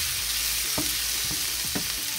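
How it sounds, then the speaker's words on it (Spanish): Nopalitos (cactus paddles) fry in a pan, a loud close sizzle with a few sharp stirring scrapes of a utensil against the pan, no talk. "Ya nada más es momento de menearle para que no se vayan a quemar, a pegar"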